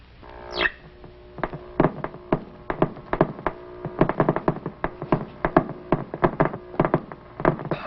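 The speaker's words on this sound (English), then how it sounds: "What you are hearing are actual cosmic ray bullets." Cosmic ray detector in a 1950s science setting giving irregular but steady dry clicks, a quick tapping stream of particle hits heard close and alone.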